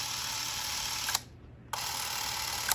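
A Minolta XL-400 Super 8 film camera's shutter button is pressed, giving a sharp click and a steady mechanical whir that stops briefly and then starts again with another click, close up.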